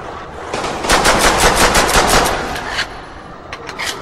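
Rapid automatic gunfire in World at War Zombies, a loud sustained burst of about a dozen evenly spaced shots lasting two seconds, then a short pause and a few more scattered shots.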